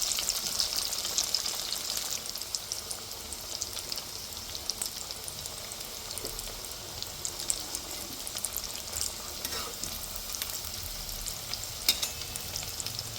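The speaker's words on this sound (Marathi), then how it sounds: "आता या वड्या आपल्याला पलटी करून घ्यायच्यात आणि छान अशा लालसर होईपर्यंत खरपूस आपल्याला त्या तळून घ्यायच्यात" Kothimbir vadi, crisp cilantro fritters made with poha, frying in hot oil in a pan, giving a continuous close sizzle and crackle with scattered pops and no voices.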